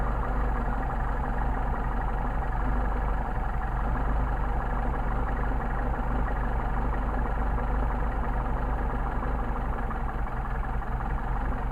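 A car engine with Solex carburettors being tuned idles steadily and close by, a continuous low rumble with a rough, uneven throb and no talking.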